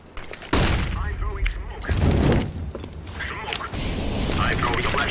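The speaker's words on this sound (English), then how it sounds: "The flashbang is there." Grenades detonate during a CS:GO match on Train, including a flashbang, as sharp loud bangs and bursts with shattering crackle and mechanical clatter, with voices over the action.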